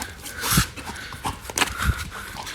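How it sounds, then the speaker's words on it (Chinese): A pet dog plays with house slippers nearby, giving short snorts, sniffs and soft whimpers in brief bursts, with some scuffling between them. "家里的狗狗很喜欢和我的拖鞋一起玩耍"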